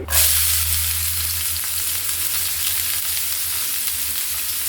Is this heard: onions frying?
yes